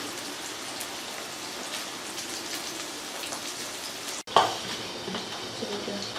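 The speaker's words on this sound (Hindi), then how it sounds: "तो अब हम थोड़ी थोड़ी देर बाद चम्मच चलाएँगे और इसको पकने देंगे।" Sugar syrup for loquat sharbat bubbles and simmers in a pot, a steady close hiss and patter, with a brief knock of a spoon stirring partway through.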